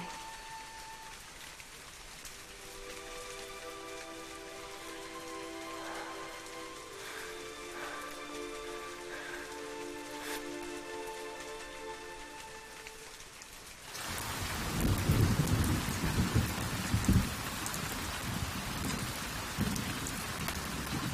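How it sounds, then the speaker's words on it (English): Heavy rain from a television drama scene bursts in suddenly after quiet music, then pours as a loud, dense, steady hiss with low rumbles of thunder that lasts to the end. "It's raining heavily"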